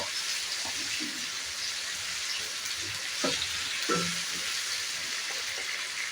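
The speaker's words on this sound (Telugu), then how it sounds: "అల్లం పేస్ట్ పచ్చివాసన పోయేదాకా ఫ్రై చేసుకున్నాము." Ginger paste frying in a pan while cooking gongura chicken curry, a steady close sizzle with a few scraping stirs partway through, no talking.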